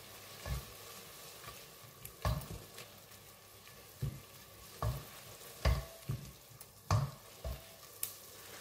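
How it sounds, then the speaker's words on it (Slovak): Ground red paprika goes into caramelizing sugar, a faint low sizzle broken by soft, irregular knocks and scrapes of stirring in the pan. "Keď sa nám roztopil cukor a začal nám karamelizovať, pridáme trošku červenej mletej papriky."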